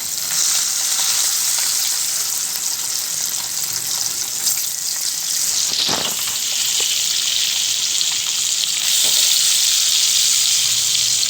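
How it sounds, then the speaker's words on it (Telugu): Chicken franks sizzle steadily in hot oil seasoned with salt, chilli powder and turmeric in a pan over a medium flame, a constant bright hiss with a few sharper spits and pops, close and unbroken. "ఇలా మీడియం ఫ్లేమ్లో వేయించుకోవాలి."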